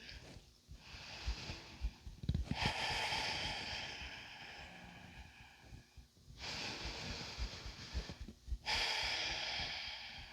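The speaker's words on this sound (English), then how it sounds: "Several breaths." Slow, heavy breaths during a yoga class, long airy inhales and exhales repeating in a steady cycle of a few seconds each, fairly close and soft with no talking.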